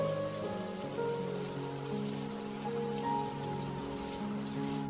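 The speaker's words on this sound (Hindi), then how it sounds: "कविता, तुम इतनी तेज बारिश में यहाँ बाहर क्यों खड़ी हो?" Heavy rain in an Indian cartoon story, a dense steady patter of drops on surfaces at constant loudness with faint tonal background music underneath and no voices.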